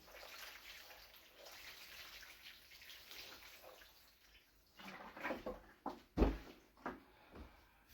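Water splashes steadily onto garden soil just sown with seeds during July succession sowing, a soft continuous hiss that gives way to several louder, irregular splashes and knocks near the end.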